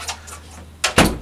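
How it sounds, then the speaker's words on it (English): A door closes indoors, with a brief latch sound and then a solid thud a moment later, standing alone over quiet room tone. "Close the door."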